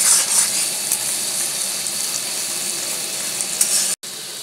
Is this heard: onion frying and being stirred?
yes